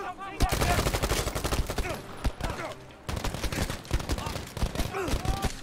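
Dense automatic and single-shot gunfire from Battlefield V on an airstrip map, with rapid bursts of shots close and loud almost without pause throughout, and faint voices mixed underneath.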